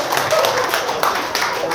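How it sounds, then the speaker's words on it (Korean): Guests at a first-birthday party clap in a short, busy burst of scattered hands, moderately loud and close, with voices mixed in under the clapping. "큰 박수 부탁드리겠습니다"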